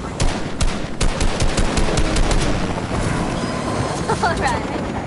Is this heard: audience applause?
no